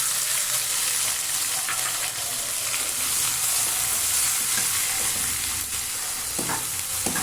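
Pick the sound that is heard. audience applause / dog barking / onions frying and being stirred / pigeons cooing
onions frying and being stirred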